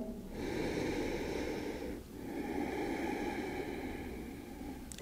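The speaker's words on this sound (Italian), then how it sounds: "Ancora un bel respirone." Slow, deep breaths during a gentle yoga session: a long, steady breathy inhale or exhale, a brief pause, then another sustained breath, close and fairly loud against a quiet room.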